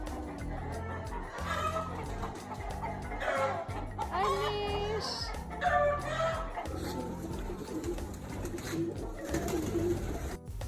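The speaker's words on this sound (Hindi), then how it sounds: "ये मेरे अब्बा के ढेर सारे कबूतर" Many pigeons kept at a family home in Abbottabad coo softly and repeatedly against a steady background, with some faint voices and other bird calls mixed in.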